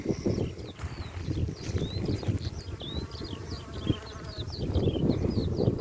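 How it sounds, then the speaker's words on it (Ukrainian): Dense, steady buzzing of many bees close by in a blooming apricot orchard, a continuous insect hum with occasional chirping birds high above it. "Активно працюють бджоли"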